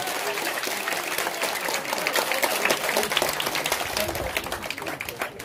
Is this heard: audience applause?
yes